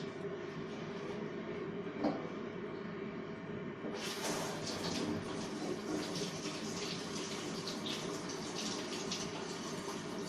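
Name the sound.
tap water rinsing a vinegar-soaked egg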